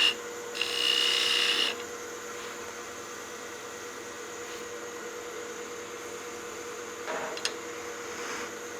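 Skew chisel cutting the waist section of a wooden Christmas gnome ornament spinning on a lathe, a harsh scraping burst over a steady motor hum, then quieter hum with a faint second cut.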